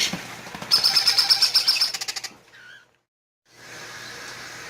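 Baby lovebirds and Quaker parrots chirp during hand feeding: a quick, even run of about a dozen high, close chirps, then a short squeak, a moment of silence and a softer background hiss.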